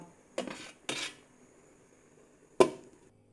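A lid is set down on a steaming pot of herb-steamed tilapia, giving a sharp metallic clack after two softer clatters of cookware, close by and with no talk.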